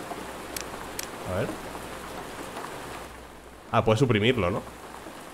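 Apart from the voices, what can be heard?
rain ambience in video game Road to Vostok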